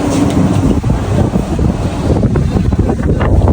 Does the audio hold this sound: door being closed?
no